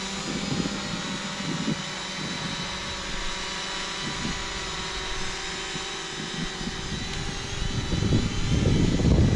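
An UpAirOne multirotor drone hovers in altitude hold, producing a constant high-pitched propeller whine with a steady buzzing drone, loud and close, swelling slightly near the end.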